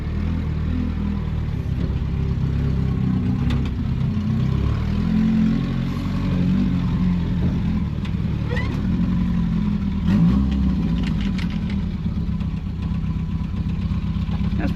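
An engine runs steadily at close range with a low, continuous rumble and a few mild rises in pitch, while wind and handling noise sit on top and no words are heard. The engine belongs to a Daihatsu F10 being revved as it rolls into place.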